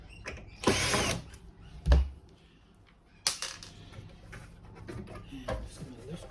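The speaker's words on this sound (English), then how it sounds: "just remember to take out all the screws" Screws being removed from the casing of an LG tumble dryer under repair, with a few short bursts of a powered screwdriver whirring and clicking, close up, separated by quiet handling noises.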